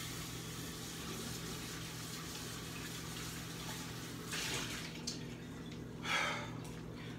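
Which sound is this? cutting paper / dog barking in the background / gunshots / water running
water running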